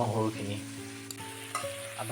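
Pieces of chopped pork fry steadily in a pan, a close, continuous sizzle with soft stirring scrapes and a few brief clinks, no one speaking.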